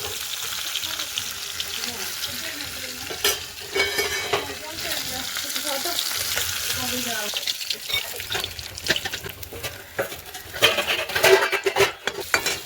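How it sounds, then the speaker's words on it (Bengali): Boiled potato pieces fry lightly in oil, a soft continuous sizzle with stirring scrapes and clinks of a utensil against the pan, close by, with occasional voices in the background. "এদিকে সিদ্ধ করে আলু কেটে নিয়ে ভেজে নিচ্ছি হালকা করে"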